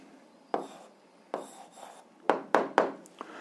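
A pen writes an answer on paper for an 8th-grade algebra exercise: a handful of close, quiet scratchy strokes in short bursts with pauses between, and no talk.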